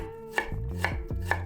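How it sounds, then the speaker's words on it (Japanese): A knife finely chopping onion on a cutting board, three crisp, evenly spaced strikes, close and quiet with no other sound. "玉ねぎをみじん切りにします"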